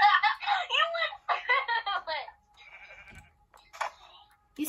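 Several bleating Minecraft sheep calls, wavering and nasal, in a lively sequence followed by softer background sounds and a brief squeak.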